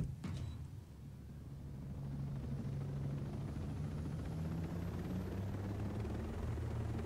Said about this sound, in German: Mein Hubschrauber bewegt sich die ganze Zeit.